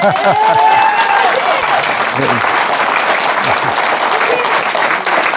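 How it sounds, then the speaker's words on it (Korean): Loud, continuous audience applause at a political book concert, with scattered cheers and voices mixed into the steady clapping throughout. "그래서 박수를 제대로 한번 치실래요?"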